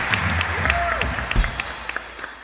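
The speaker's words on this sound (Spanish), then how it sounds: "Vamos a darle un buen aplauso a la palabra de Dios" Scattered clapping from a small church congregation, uneven and light, over a low murmur and room noise.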